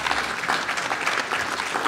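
An audience at a keynote applauding Richard Stallman (RMS): dense, continuous clapping from a crowd, fairly loud and steady for the whole stretch, with no talk over it.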